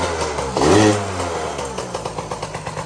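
Yamaha BW80 motorcycle engine revs up loudly, then settles into a rhythmic mid-pitched putter close by, with no talking.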